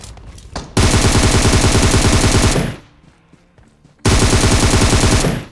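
Rapid automatic gunfire from PUBG Mobile, loud and close, in two long sustained bursts separated by a quieter gap with scattered shots.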